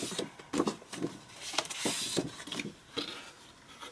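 Scored cardstock being folded into a tunnel card: a run of crisp, close paper rustles, creases and rubbing swipes in uneven bursts, with no voices.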